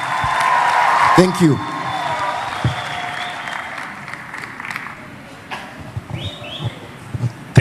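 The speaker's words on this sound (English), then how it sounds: "You can clap for yourselves and take a seat." Graduates and audience clapping at a Cavendish University graduation ceremony in Uganda, a loud burst early that thins out to scattered claps, with a whistle, a voice over the start, and a brief spoken thanks.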